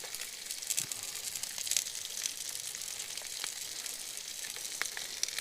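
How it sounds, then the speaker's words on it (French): Fish frying gently in a filet of olive oil, seasoned with salt and pepper, giving a steady, close crackling sizzle with small pops throughout, no talking. "Et on va se la faire cuire tout doucement à l'étouffer."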